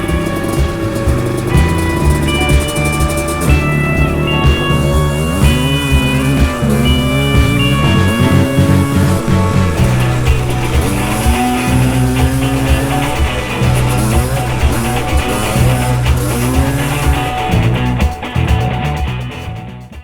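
Yamaha Tri Z 250 three-wheelers racing around the Eugene motocross track, loud close two-stroke engines wailing and bouncing up and down in pitch as they accelerate and shift, continuous throughout.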